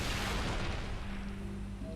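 A booming blast from a rifle that makes targets explode in Halo Reach, a loud low burst at the start that decays into rumble with a faint tone near the end.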